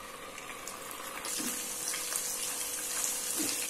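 A steady, loud hiss and sizzle from onion and almond paste dropped into hot oil that already holds fried whole spices, for a Chicken Lababdar, the frying growing brighter partway through and continuing without talk.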